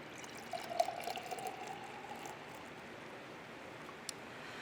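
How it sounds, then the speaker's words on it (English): A canned drink being poured into a glass, a soft close gurgling pour lasting a couple of seconds and then fading into quiet fizz, faint and alone. "The second step is to pour it into a glass."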